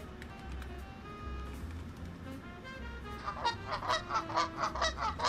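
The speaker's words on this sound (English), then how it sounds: "I just felt like playing the goose sound" Rapid, rhythmic goose honks from a sound effect start up after a few seconds over a low steady hum, getting louder and repeating several times.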